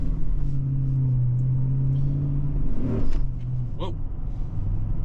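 A Mercedes ML63 AMG engine rumbles and revs up briefly from inside the cabin, a loud low drone rising and falling with road noise and a short sharp noise near the end.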